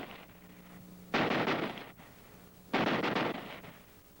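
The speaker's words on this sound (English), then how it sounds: "if you flick this change lever, you can fire at the full automatic rate" Two bursts of full-automatic fire from a Browning automatic rifle, each lasting under a second, loud and close, separated by a short pause.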